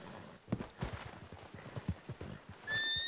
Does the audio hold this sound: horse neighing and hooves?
yes